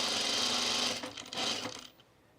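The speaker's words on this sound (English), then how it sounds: "Oh, I just started sewing." Sewing machine stitching a Magnolia dress, running as a loud, close, steady whir for about a second, pausing briefly, then running again in a shorter burst before stopping.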